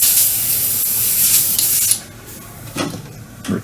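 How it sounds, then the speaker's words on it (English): An airbrush for scale model painting blasts out leftover paint in a loud hissing spray for about two seconds, then stops, followed by a few soft clicks and short bursts. "I'll just unload the airbrush"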